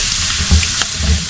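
Fish pieces fry with garlic and yogurt in a hot pan, giving a steady close sizzle with a few soft stirring bumps and no talk.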